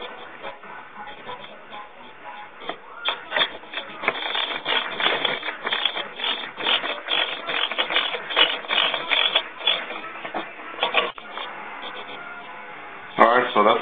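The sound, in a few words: tightening bolts on Ducati Monster tail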